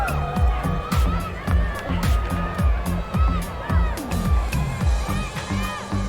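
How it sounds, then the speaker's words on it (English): Spectators at a women's ski streetstyle final at Winter Dew Tour in Copper shout and cheer in bursts, lively and fairly close, while loud rhythmic music pounds underneath and voices chatter through it. "You can hear the crowd getting a little rambunctious out there, cheering everybody on"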